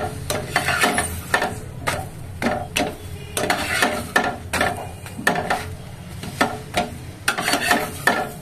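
Vegetable paratha fries in ghee on a pan, a bubbling sizzle broken by regular sharp clinks and scrapes of a spatula turning and pressing the bread, close by.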